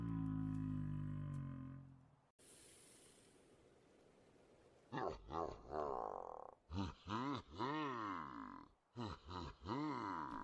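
A demon cow monster effect opens with a low droning tone and a hissing burst, then a series of deep, guttural grunts and groaning moans in rapid, pulsing bursts.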